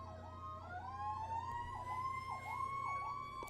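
A fire engine siren wails from a nearby fire station, a steady rising-and-falling cycle repeating about every half second, loud and close over a low engine hum.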